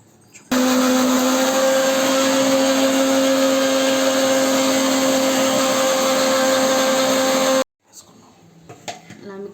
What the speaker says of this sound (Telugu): ఈ మొత్తం కలిపి మనం మిక్సీలో వేసుకొని గ్రైండ్ చేద్దాం.